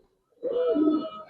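A Giribaz pigeon gives a single close, soft throaty coo lasting under a second, rising out of near silence as it is released on a pigeon farm.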